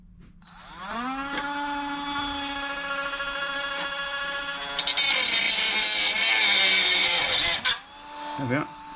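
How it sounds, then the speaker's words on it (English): A Dremel spins up to a high steady whine, then bites into rotten sill metal on a Land Rover Discovery 3 with a loud harsh grinding screech before winding down; a voice is briefly heard near the end. "Get the Dremel, we'll cut through that bit."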